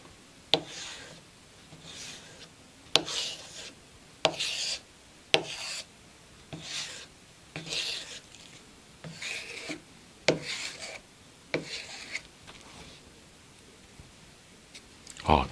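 A knife blade is drawn across CBN grinding stones on an Ermak 5 sharpener, a series of close, scraping strokes with light clicks as the stone is repositioned, and a voice speaks quietly in between.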